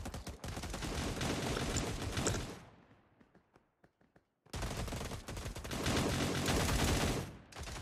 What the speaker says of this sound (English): is that a sniper I hear?